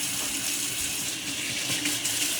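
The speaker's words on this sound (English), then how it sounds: "Let me wash my hand." Hands are washed under a running kitchen tap while meatloaf is being made, a steady, close hiss of flowing water that lasts throughout without talking.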